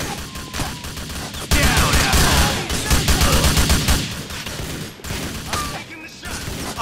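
Rapid bursts of gunfire in the video game GTA 4, loud and dense, firing almost continuously with brief breaks.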